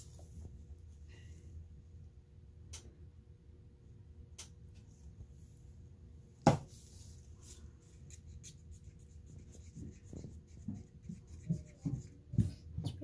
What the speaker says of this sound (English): Let's stir a little more.